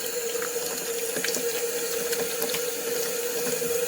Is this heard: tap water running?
yes